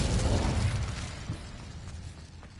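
An Incendio fire spell cast in Hogwarts Legacy bursts out as a loud, crackling whoosh that peaks at once and fades over a couple of seconds, with no voices.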